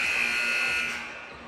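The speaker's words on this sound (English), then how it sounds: "There's the buzzer." A basketball scoreboard buzzer at a high school boys' game ending a period sounds in one steady, bright electronic tone for about a second, then fades away.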